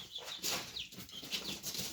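A rooster nearby flaps its wings in quick bursts and gives soft clucks between them, faint and close, with no voices.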